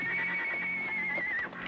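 A horse whinnies in a Western setting, one drawn-out high neigh sliding down and trailing off after about a second and a half, close and clear over a soft background.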